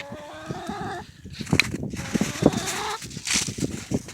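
Ornamental chickens cluck and murmur nearby while feeding, in a steady scatter of short calls, with some background noise and a brief higher call.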